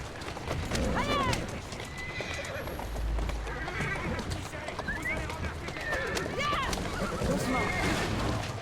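Horses in a video game whinny several times and their hooves clip-clop at a gallop, the calls rising clearly above a busy game soundscape while someone talks in French.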